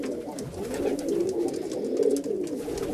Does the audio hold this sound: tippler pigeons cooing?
yes